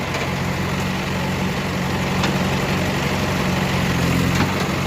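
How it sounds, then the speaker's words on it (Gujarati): A tractor's engine idles steadily at a roadside gravel-laying site, a continuous low rumbling drone with faint vibration and no break across the whole stretch. "આપણી પાછળ જો નિલેશભાઈનું ટ્રેક્ટર પડ્યું મહાદેવ"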